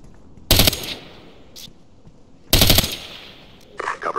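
Two loud, close machine gun bursts of automatic fire in the video game Ghost Recon Advanced Warfighter, with a shorter burst at the end and quiet gaps between.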